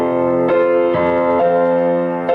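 Both hands together on piano play a short bit of a song, a few struck chords with bass notes underneath, close and clear, no voices.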